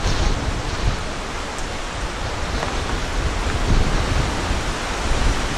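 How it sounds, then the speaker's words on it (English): Strong wind roaring over the microphone on a hiking trail, a constant loud broadband rush with no pauses. "Right now, I'm walking right into the wind."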